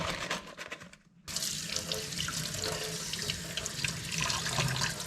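Kitchen tap water runs hard as fresh figs are rinsed, a brief pause in the flow, then a steady close gush splashing over the fruit.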